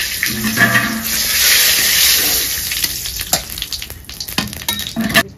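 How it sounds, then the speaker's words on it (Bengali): Bay leaves and cumin seeds hit hot oil in a home Bengali kitchen, a loud close sizzle that swells then fades, followed by scattered clatters and scraping sounds. "তেল গরম হয়নি? হয়ে গেছে, এই জন্য জিরা দিয়ে দিচ্ছি।"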